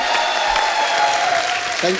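Studio audience at The Kapil Sharma Show applauds a guest singer's arrival with continuous clapping, mixed with a sustained musical tone and some voices in the background.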